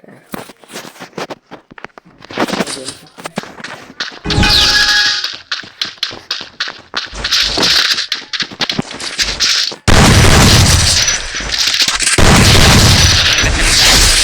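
Gunfire in a shooting video game: loud repeated bursts and single shots crack through the clip, with heavy booms and bursts of rapid automatic fire, the density building toward the end; no one talks.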